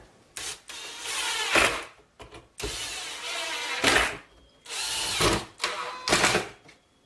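A power drill drives a screw to fix a bolted wooden block onto a homemade table saw, with several bursts of whirring and pauses in between, close and fairly loud, with no talking.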